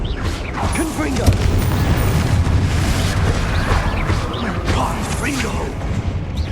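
A Confringo explosion spell cast in Hogwarts Legacy combat, with repeated booming bursts and mechanical clatter through a dense, loud battle mix, while voices shout over the fighting.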